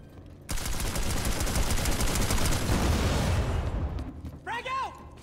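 Rapid automatic gunfire in Planetside 2 rattles out in a loud, sustained burst of overlapping shots, then breaks off as a voice calls out near the end.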